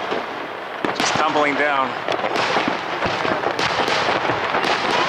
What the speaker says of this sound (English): it has a fireworks flourish to it, too